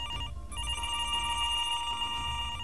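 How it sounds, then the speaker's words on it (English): Telephone ringing in a video game, a steady electronic ringtone with sustained tones held continuously over a low background hum, no talking. "Phone call."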